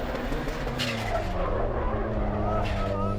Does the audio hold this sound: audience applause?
no